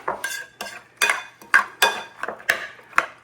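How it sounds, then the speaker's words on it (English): A utensil stirs Spanish omelette mixture in a bowl, giving repeated scraping clinks against the bowl at a steady rhythm, close and fairly loud, with no talking. "Go ahead and stir that up."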